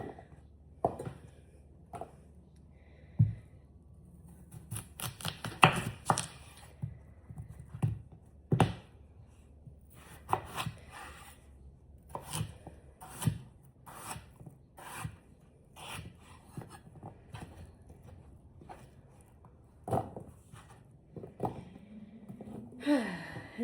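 A knife chops food on a cutting board, with irregular close thuds and taps spaced across a quiet room.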